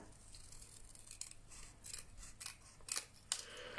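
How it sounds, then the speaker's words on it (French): Precision scissors snip through paper for a handmade folded card, with small crisp cuts that are fairly quiet and close up, several snips in quick succession. "vous prenez des ciseaux de précision"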